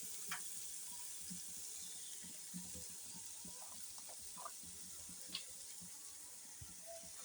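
Food frying in a pan after a sprinkle of Maggi masala, a steady close sizzle with occasional soft scrapes and knocks of stirring, fairly quiet and without talk.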